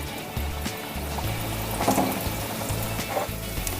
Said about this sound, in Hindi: तो अब हम फिर से इन्हें फ्राई करते हैं।